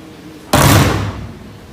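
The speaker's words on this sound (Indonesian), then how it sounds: "membanting pintu." A door slams shut with one sudden loud bang that decays over about a second, alone with no talk.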